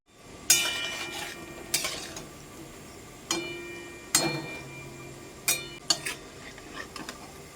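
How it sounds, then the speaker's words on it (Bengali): Palm fruit fritters (taler bora) fry in a pan, a low sizzle broken by a few separate clinks and scrapes of a utensil against the metal, close by and without voices. "এই যে প্রথমকার কটা হয়ে গেল আবার বাকি কটা ভেজে নিচ্ছি"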